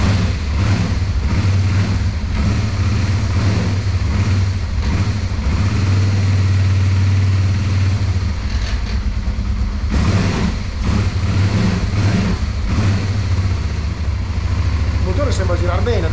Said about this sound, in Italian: Il motore sembra girare bene